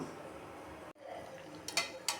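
A spoon scrapes and knocks around inside a metal pot of tomato kuzhambu, with a couple of sharper clinks near the end.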